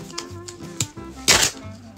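Cardboard tape tab tearing open on a boxed 1 TB Xbox Series S console, a short loud ripping burst after a few light clicks and taps of handling.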